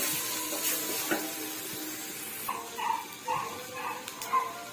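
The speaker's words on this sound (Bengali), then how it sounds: "এবারে দেব এই তেলে দেব কেটে রাখা টমেটো স্লাইস" Tomato slices hit hot oil and sizzle in a pan, a bright hiss at first that settles into softer frying with a few stirring scrapes.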